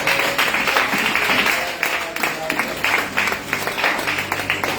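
A church congregation applauds and acclaims the Lord, steady dense clapping mixed with crowd voices, fairly loud and continuous throughout.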